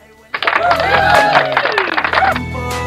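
A burst of cheering and whoops starts abruptly and fills the clip with a loud, busy crowd-like roar, then cuts off near the end.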